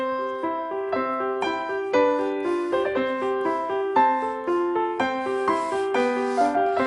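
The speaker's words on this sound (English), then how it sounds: "what a 7-year-old child sounds like when he plays the piano" Piano notes played by a seven-year-old child in a simple, halting pattern, each note struck separately with a slightly uneven rhythm, moderately loud and without voices.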